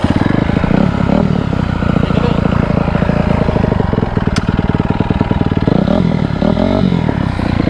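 A dirtbike engine runs loud and close, a rough, rapid buzzing rumble that swells and dips as the throttle is worked, with voices faint beneath it.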